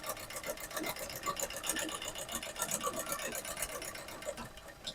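Sewing machine running smoothly after its thread tension nut was tightened, a fast, even mechanical chatter that continues steadily, close and fairly faint, with no voices.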